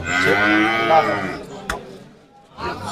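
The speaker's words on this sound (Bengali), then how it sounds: "এগুলো ফ্রিজিয়ান ফ্রিজিয়ান গরু" Friesian cows at a cattle market moo in a long, low, drawn-out call that fades, followed by a brief knock and a quieter stir of movement.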